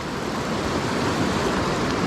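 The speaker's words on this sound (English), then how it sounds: "It's just fast water." Fast-flowing water of the Nantahala River in western North Carolina, a dense, steady close rush of whitewater with no pauses or voices.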